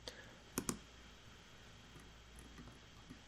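Computer mouse clicks while drawing a shoe logo in Onshape: a quick pair of sharp, close clicks early on, then a few fainter ticks against a quiet background hum.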